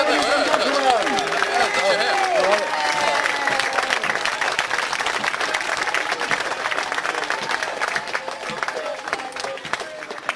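Outdoor history festival crowd applauding and cheering for Roman legion and auxilia reenactors parading past, a steady wash of clapping and crowd noise with a voice talking over it.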